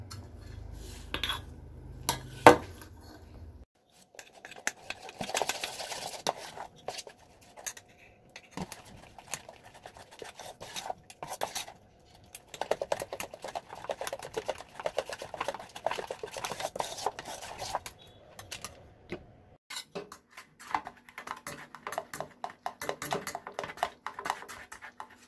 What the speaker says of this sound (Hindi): ये एकदम स्मूथ हो जाए तब तक हमें इसे फेंटना है इस तरह